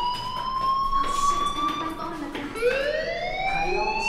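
An electronic fire alarm wails in the video game Life is Strange, its tone sweeping and rising steadily, loud and continuous over a busy background, with a fresh upward sweep midway through.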